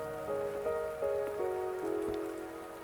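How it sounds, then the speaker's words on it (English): Rain patters steadily on a beach in Wuthering Waves, a dense close hiss of drops on surfaces beneath a sustained stepping musical tone, with no talking. "Are you trapped here by the rain?"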